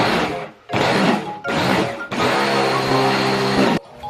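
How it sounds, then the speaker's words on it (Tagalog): An electric meat grinder works through celery and onion in loud, whirring bursts: a short burst, a pause, then three longer runs of the motor with brief stops between, close up and without talk. "Sunod ko naman ng grinder ay yung celery tsaka na nga rin sibuyas."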